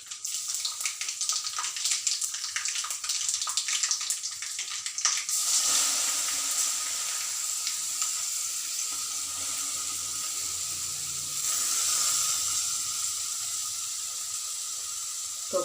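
Grated raw mango lands in a hot pan, first with crackly spattering and clatter, then settling into a steady hiss that rises briefly again later, close and continuous.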